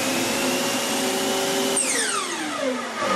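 A shop vacuum hums steadily to clear dust after a saw cut, its tone dropping as the motor spins down while the vacuum keeps running, loud and close with no talk.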